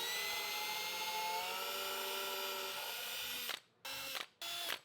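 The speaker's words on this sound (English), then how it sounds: "I'm going to be using a drill bit that is a little bit bigger than the threads that I currently have" A power drill with a bit slightly larger than the threads bores holes in a router base, a steady whine winding down before two short bursts separated by stops.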